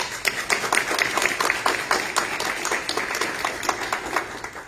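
Audience at a Houston event promoting Super Saturday student vaccinations breaks into applause, a dense steady clapping from many hands, moderately near and unbroken by talk.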